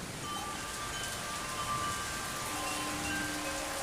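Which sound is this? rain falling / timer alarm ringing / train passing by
rain falling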